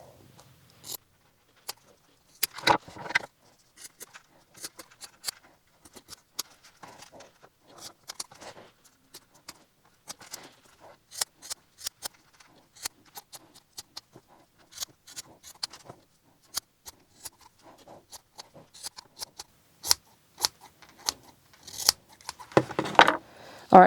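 Scissors trimming tufted yarn into a small heart-shaped keychain, a long run of scattered crisp snips, some in quick clusters, close and fairly quiet against near silence.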